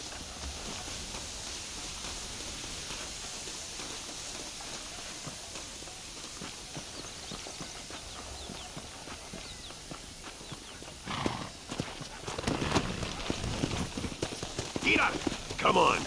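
Horse hooves clip-clopping in the Red Dead Redemption video game, a quiet steady trotting patter throughout that grows louder and busier toward the end, with faint game ambience underneath.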